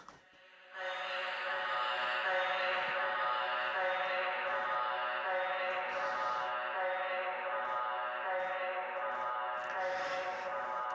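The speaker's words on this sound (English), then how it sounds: "You'll also hear that really weird echoey vocal part that's in there." A repeated vocal line cascades into heavy layered delay, its sustained echoing tones stacking into a dense, shimmering wash that swells in after a quiet start and holds steady throughout.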